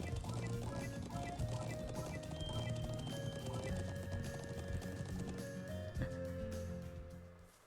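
A horse in a video game clip-clops along at a steady gait, hoofbeats loud and close, with a whinny and a musical score running underneath before the sound fades out.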